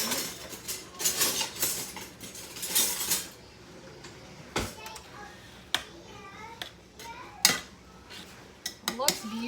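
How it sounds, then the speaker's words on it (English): A spoon clinks and scrapes against a pot while soup is stirred in a home kitchen, with a few sharp knocks and rattling metal sounds scattered across the clip and faint talking in the background. "So now we're going to give this a nice little stir."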